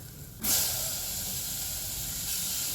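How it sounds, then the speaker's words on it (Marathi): Tomatoes drop into a pan of frying onions and a sudden loud sizzle erupts, settling into a steady close hiss of hot oil that carries on to the end. "कांदा छान भाजून घ्यायचा आहे यामध्ये आपण टोमॅटो घालून घेऊयात"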